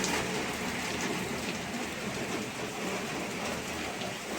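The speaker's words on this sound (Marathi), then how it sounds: "एकदम जोरात पडतोय पाऊस." Heavy monsoon rain pours down on an evening, making a constant, loud wash of hiss and patter that never lets up, with no voices.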